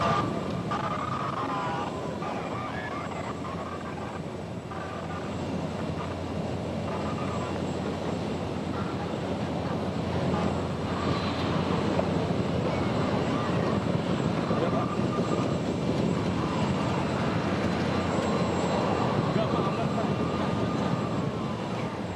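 An Indonesian military (TNI) Boeing 737-400 on an airport taxiway produces a steady, unbroken jet engine roar that holds at a constant level throughout.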